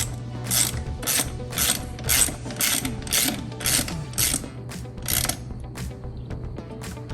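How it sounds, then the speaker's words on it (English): A ratchet tightening bolts on a blow off valve being fitted to a Nissan Skyline R33: about a dozen sharp rhythmic clicking strokes in bursts, close and clear over a faint steady hum. "then you can tighten the bolts."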